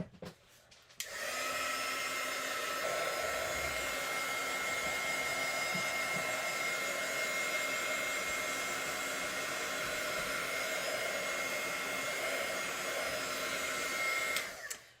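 A hair dryer runs continuously for about fourteen seconds while drying modeling paste on an art journal page, a steady close whirring blow that switches on after a brief pause and cuts off at the end.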